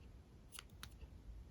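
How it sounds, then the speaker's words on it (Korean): Scissors cut through the middle of a rubber-band carnation craft in two quick, faint snips, close up in a quiet room. "가운데 중간에 넣은 이 부분을 가위로 잘라줄게요"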